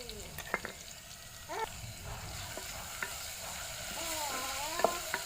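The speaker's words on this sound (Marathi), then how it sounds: "लसूण टेचलं ना की मग चांगला वास येतो त्याचा सगळ्या तेलात मस्त मिक्स होतो त्यानंतर आपल्याला ह्या तीन मिरच्या टाकायच्या नंतर आपण हे जिरं टाकणार" Garlic, green chillies and cumin sizzle in hot oil while a utensil stirs them, with a steady frying hiss and scattered scraping knocks, fairly close and even throughout.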